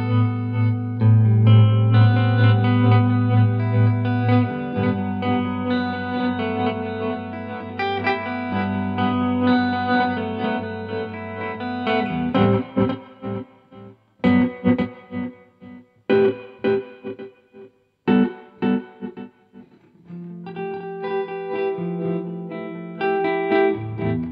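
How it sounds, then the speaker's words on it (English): Electric guitar played through a glitchy delay pedal with reverb, its feedback controlled by an expression pedal: sustained chords at first, then choppy stuttering repeats that cut in and out before notes swell back, loud and close. "you'll get this weird kind of glitchy effect where not all the repeats will get through, but some will"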